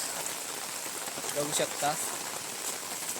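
Heavy rain pours in a steady broadband wash over pooled water, continuous and close, while a voice speaks briefly over it.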